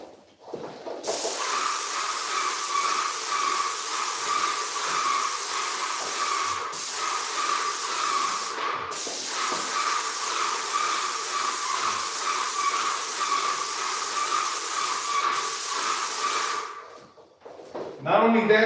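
A steady, loud hissing paint sprayer spraying gloss on a house runs almost without a break for over fifteen seconds, with a couple of brief pauses, then stops.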